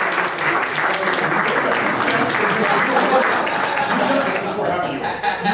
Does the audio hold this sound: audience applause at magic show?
yes